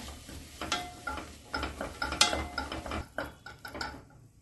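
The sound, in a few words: stirring chopped tomatoes into sautéed vegetables in a pan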